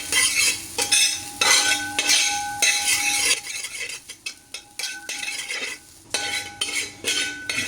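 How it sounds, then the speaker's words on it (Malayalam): A metal spoon stirs and scrapes sliced shallots in a pan while coconut roasts for a Kerala-style chicken curry, giving repeated close clinking, scraping strokes over a faint sizzle, with no speech. "ചെറുള്ളി, ഷാലോട്ട്സും കൂട്ടി ഇനി നമുക്കിന്ന് വാർത്തെടുക്കണം."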